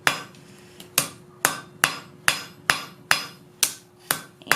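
A hammer forging a taper on hot steel over the edge of an anvil while making a Celtic bracelet: nine or ten loud, ringing blows at a steady pace of roughly two per second, close up and alone.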